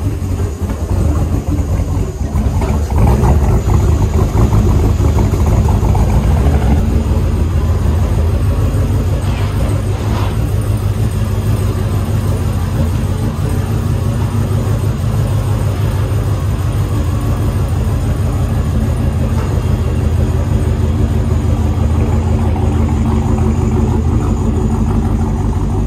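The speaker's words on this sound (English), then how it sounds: "Listen to that exhaust note" A custom 1953 Chevy 3100 truck's engine idles loudly and steadily with a deep, rumbling exhaust throb that stays constant throughout, no voices.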